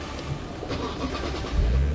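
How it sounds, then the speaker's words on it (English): A car engine cranks and catches at a driver-selection event for the Nissan GT Academy racing programme, a steady close rumble swelling into a louder, deeper surge near the end, with no talking. "You can start the engine first."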